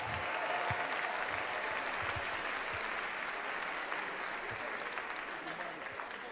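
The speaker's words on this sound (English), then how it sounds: "give you all a round of applause" Sustained crowd applause at a national convention, a steady dense wash of many hands clapping at moderate level, with faint voices underneath.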